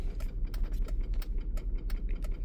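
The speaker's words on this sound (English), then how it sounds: "Let me turn on my hazard" Rapid mechanical clicking of a Chrysler Town and Country minivan's hazard lights ticks along in a quick, fairly regular rhythm over a low rumbling background, like a turn-signal relay.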